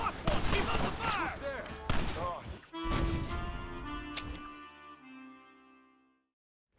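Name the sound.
gunfire in Red Dead Redemption video game battle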